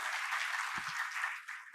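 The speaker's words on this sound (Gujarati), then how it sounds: "ખૂબ તાળીઓના સન્માન સાથે કવિશ્રી તુષાર શુક્લ" Audience applause for poet Tushar Shukla at a Gujarati poetry gathering on World Poetry Day, a steady dense wash of clapping that carries on evenly and thins slightly near the end.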